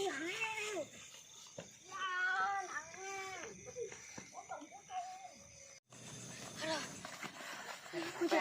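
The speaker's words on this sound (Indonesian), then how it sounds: "Kucing amat nih" A cat meows several times in a row, each meow drawn out and rising and falling, fairly quiet and close, with outdoor background sound between the calls.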